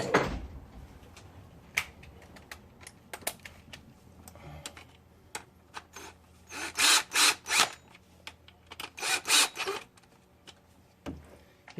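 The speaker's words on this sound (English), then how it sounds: "And I'm going to use the drill." A power drill drives long timing chain bolts on a 2006 Cadillac CTS 2.8L engine in a garage, with short irregular whirring bursts, sharp metallic clicks and taps, and a cluster of louder, closer spins near the end, with no talk.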